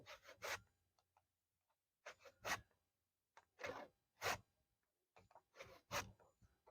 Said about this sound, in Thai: เลื่อยยากนิดนึงครับมันเป็นไม้สด